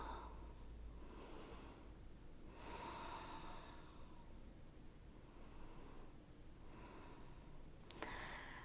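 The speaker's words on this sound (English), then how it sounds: "Close your eyes and take a deep breath." Slow, deep breathing during a yoga cool-down lying on a mat, several long inhales and exhales close to the microphone, soft and airy, with no talking.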